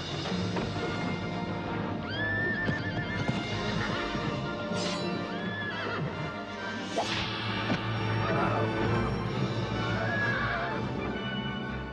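Winged horse from a Harryhausen film neighs and whinnies repeatedly amid whip cracks, clip-clopping hooves and whooshing movement, loud and busy throughout with some muffled voices underneath.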